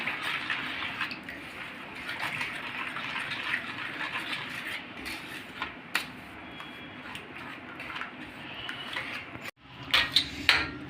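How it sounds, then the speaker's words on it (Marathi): Jaggery being mixed into a mango drink, a steady close wash of liquid swirling with light clinks of a spoon against the vessel, ending in a few sharper taps. No one speaks. "ह्या गूळ पण आपण आता ह्याच्यामध्ये मिक्स करून घेऊया"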